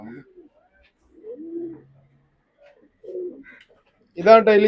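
Several pigeons in a loft coo in short, throaty bursts separated by quiet gaps, close by, ending with a louder, fuller coo.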